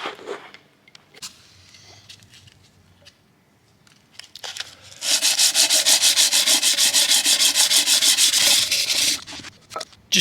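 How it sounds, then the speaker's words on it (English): Hand wet sanding on the paint of an E36 BMW M3 panel: a few scattered rubs, then a sustained burst of rapid back-and-forth scraping strokes, close and loud, trailing off. "Just keep it lubricated and rub"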